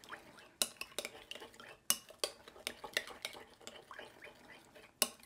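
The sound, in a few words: mixing cucumber salad with utensils in a bowl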